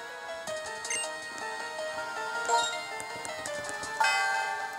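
A bell in the Pokémon White video game chimes repeatedly, with several bright, ringing strikes that decay between hits and a louder strike near the end, fairly soft overall.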